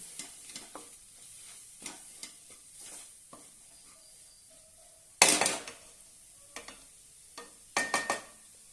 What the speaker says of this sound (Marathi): आता यामध्ये दोन चमच बेसन पीठ घालूया छानपैकी एकत्र करून घेऊया